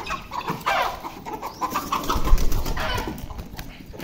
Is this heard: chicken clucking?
yes